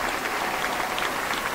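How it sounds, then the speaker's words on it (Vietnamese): Steady applause from a conference audience at a business association's general meeting in a hall, a dense even patter of many hands, moderately loud and continuous throughout. "Đề nghị chúng ta cho một tràng pháo tay."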